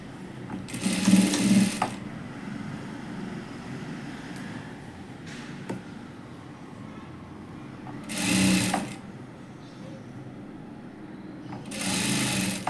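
Sewing machine stitching the princess-cut seam of a size 40 blouse, running in three short bursts separated by quiet pauses, close up over a low background hum.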